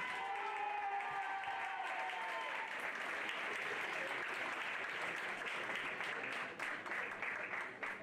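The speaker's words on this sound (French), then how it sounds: "On peut les applaudir" Steady applause from an audience at an equestrian TREC prize-giving ceremony, many hands clapping continuously at an even level throughout, with a crowd murmur underneath.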